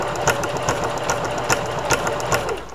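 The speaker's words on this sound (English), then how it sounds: "I love this sewing machine," A sewing machine runs steadily up close, its needle thumping in a regular rapid rhythm with periodic louder clacks, no talking.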